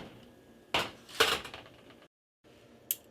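An oven door opening with a metallic clack and a clatter of a pan as thin baked bacon is taken out, two sharp bursts close by, then a brief silence and a faint final clink.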